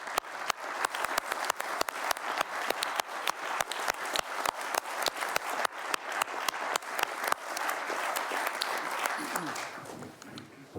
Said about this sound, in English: I think it's a big round of applause for Martin and the team